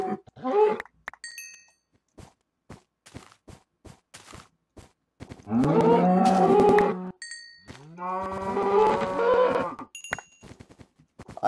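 Cattle in a Minecraft-style game moo loudly twice in long, drawn-out calls, separated by short sharp clicks of hits and footsteps, with near silence between the calls.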